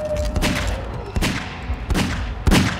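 Loud gunshots in a Garry's Mod horror game, about five heavy booming shots at uneven intervals over a few seconds, close and punchy, with no talk.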